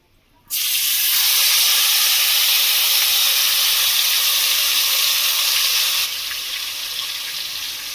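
Mutton pieces dropped into hot oil with bay leaf, dried chillies and garam masala for mutton kosha: a sudden loud burst of hissing sizzle that holds steady, then settles slightly quieter.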